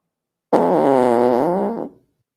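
A single long, buzzing fart sound effect, loud and close, lasting about a second and a half before cutting off.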